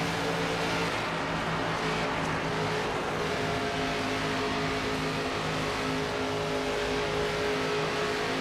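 A NASCAR stock car in the NASCAR 25 racing game roars continuously at high revs, a loud, steady engine drone with slight pitch shifts as it runs in traffic, with no voices.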